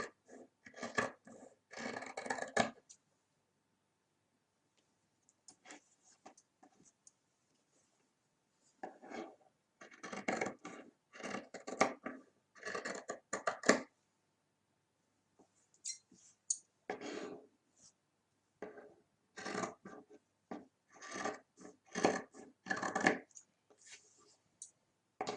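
Scissors trimming the excess fabric off a sewn fabric basket, leaving a 1 cm seam allowance: bursts of crisp close snipping and cloth rustle separated by quiet pauses, with no talk.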